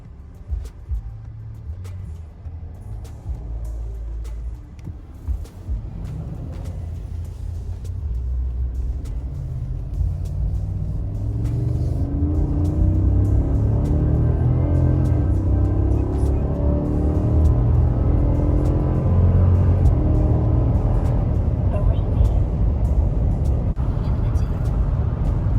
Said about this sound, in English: So we're gonna do a 0 to 75 at about 3/4 throttle.